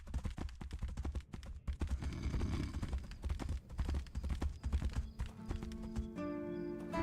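Horse hooves clip-clop in the video game Tainted Grail: The Fall of Avalon, a brisk, loud, rhythmic run of hoof strikes with a brief whinny, ending as a game tone sounds.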